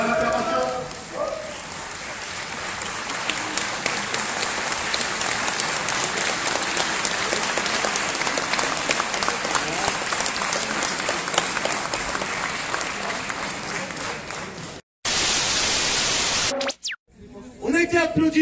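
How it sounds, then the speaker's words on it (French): A ceremony audience at an agglomeration New Year's greetings event claps in sustained, dense applause for about fifteen seconds, steady and fairly close, ending in a brief burst of harsh noise. "On a été applaudi, on a été entendu, on a été écouté"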